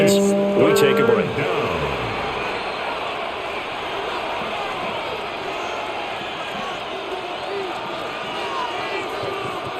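A stadium crowd in the football video game Madden 26 roars steadily throughout, a dense sustained cheer after an opening burst of louder sounds, with a commentator's voice talking over it.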